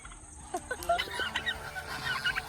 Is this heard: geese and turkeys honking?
yes